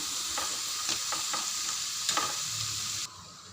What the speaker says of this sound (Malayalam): ഇത് നന്നായിട്ട് ഫ്രൈ ആവട്ടെ കേട്ടോ